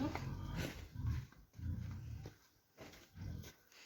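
A young pig growls and grunts in low, rough bursts while being weighed in a sack on a family pig farm, four or five close, rhythmic rumbles separated by brief pauses.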